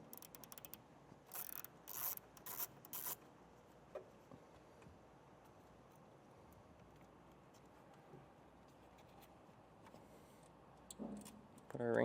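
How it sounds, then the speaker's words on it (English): A 10mm ratchet wrench loosens a nut on a battery ground stud of a 2024 Chevrolet, heard as a few short, quiet clicking ratchet bursts at the start and again near the end, with low room noise between. "We'll remove the nut with a 10mm."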